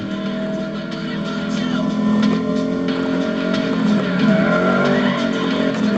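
A McLaren SLR drives hard with tyres skidding, a continuous engine roar and sustained tyre squeal held close and loud throughout.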